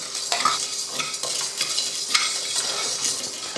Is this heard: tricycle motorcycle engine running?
no